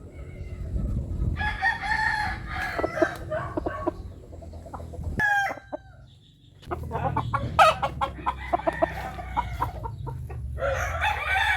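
A rooster from a Filipino barangay fighting-cock farm crows loudly and close several times, with clucks and other fowl around it, each call a rising then drawn-out burst.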